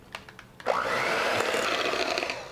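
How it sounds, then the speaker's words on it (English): An electric mixer whirs into snickerdoodle cookie batter after a few light taps, starting abruptly and holding a steady, close, buzzing hum to the end. "And now we mix until nicely incorporated."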